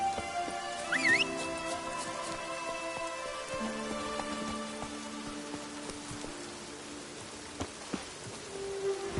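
Rain patters in The Witcher 3, a soft steady hiss beneath tonal game music and ambient effects, fairly quiet throughout.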